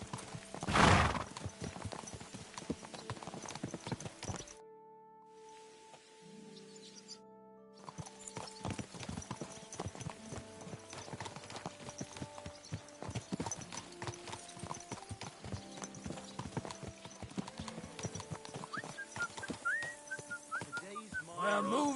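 Horses gallop in Kingdom Come: Deliverance II, with rapid hooves clip-clopping steadily for most of the stretch, a horse whinnying loudly near the start, and a brief lull before the riding resumes under game music tones.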